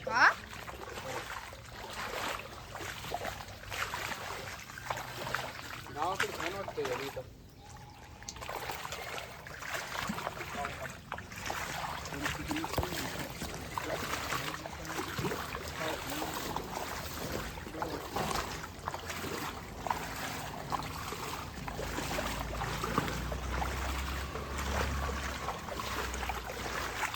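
Floodwater running through a society compound after heavy rain, a steady rushing wash of water that carries on throughout, with people talking over it for much of the time.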